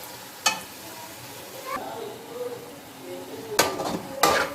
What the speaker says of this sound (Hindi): अब हमने मसाले को अच्छी तरह भूनना है जब तक टमाटर ना गल जाए।